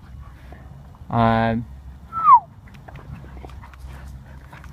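A dog gives a single close bark, followed by a short high yelp, with a brief spoken word and quiet background.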